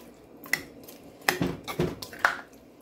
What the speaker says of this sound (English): Now I'm going to cover the pot